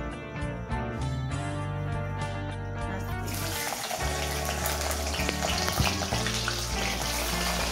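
Beans drop into hot oil partway through and set off a loud, crackling sizzle that continues steadily after that. Before they go in, a melodic tone plays softly in the background.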